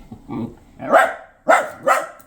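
An Italian Greyhound indoors gives four sharp barks in quick succession, the last three louder and closer together, each a short yappy burst with silence in between.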